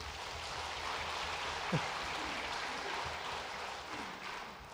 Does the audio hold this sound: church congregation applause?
yes